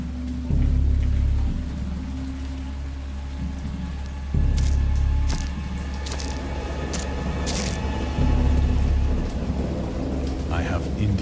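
A great storm near a boat: steady rain hiss under deep, rolling rumbles of thunder that swell in three heavy waves, with a few sharp crackles between.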